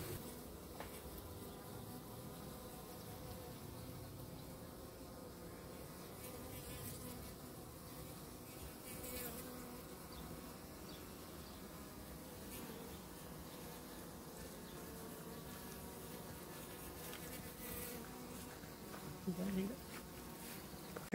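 A dense mass of honeybees from a mini-plus hive hums continuously, a steady buzzing swarm throughout with faint background clatter, close to the listener.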